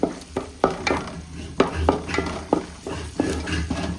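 Carrots stir-fry in Dalda in a metal pot. A spoon scrapes and knocks at an irregular rhythm over a soft, continuous sizzle, close and fairly quiet.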